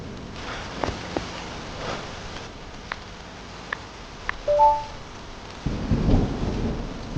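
Thunderstorm with steady rain, punctuated by several sharp cracks and a heavier rolling rumble of thunder near the end, with no voices.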